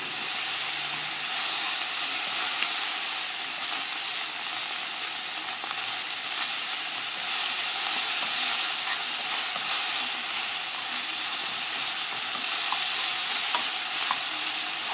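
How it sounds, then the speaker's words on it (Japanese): Burdock root stir-frying in sesame oil in a pan, a steady close sizzle and hiss of frying with stirring throughout, no voices. "ごま油でこんがりと炒めていきます。"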